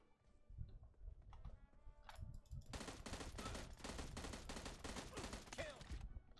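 Rapid automatic gunfire in PUBG Mobile rattles out in a dense, sustained burst after a few scattered earlier shots, with faint voices and clicking in the background.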